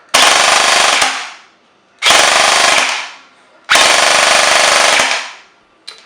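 Airsoft AEG electric gun firing three sustained full-auto bursts, each roughly a second long with a sharp onset and a whirring motor tail, separated by short gaps, loud and close with no talking.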